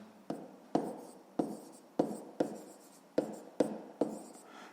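Pen or pencil strokes on paper while writing out a fifth-grade maths exercise, about nine quick scratchy bursts at an uneven rhythm, close and fairly quiet, with no talking.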